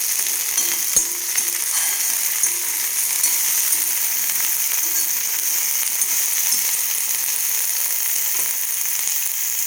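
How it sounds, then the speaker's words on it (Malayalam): Shallots and okra sauté in a pan with a loud, even, continuous sizzle up close, broken by a few sharp clicks of a utensil. "ചെറിയ ഉള്ളിയും വെണ്ടയും കൂടെ ഒന്ന് നന്നായിട്ട് വഴറ്റിയെടുക്കാം"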